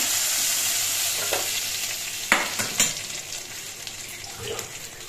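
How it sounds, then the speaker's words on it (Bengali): A fish head frying crisp in mustard oil in a pan, a loud steady sizzle with a few sharp spatula scrapes and knocks against the metal, no voices. "মাছের মাথাটা উল্টে পাল্টে নিয়ে আমি একটু কড়া করে ভেজে নিয়েছি এবং নামিয়ে নিচ্ছি।"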